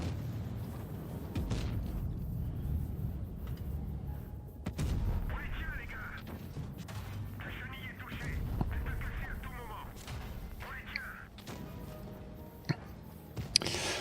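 Tank cannon shots from a FV215b in World of Tanks, heavy booming reports spaced irregularly through a dense battle din, with engine rumble and a voice speaking over the action.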